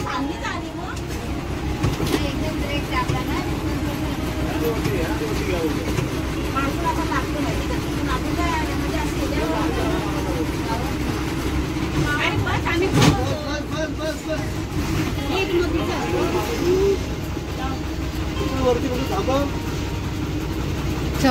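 Steady engine drone and road rumble fill the cabin of a moving MSRTC state transport bus on a return trip from a village to Mumbai, with passengers talking intermittently over the noise.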